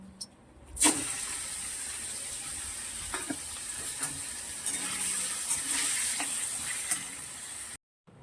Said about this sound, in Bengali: এখানে দেখো সাদা তেল গরম করে নিয়েছি, এবারে এই চিকেনটা দিয়ে দেবো